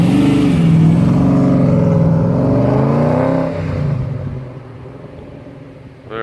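A 1987 Holden Commodore VL Group A replica V8 revs loudly and close up, a deep rumbling rise and fall that eases back toward idle near the end, with no talking.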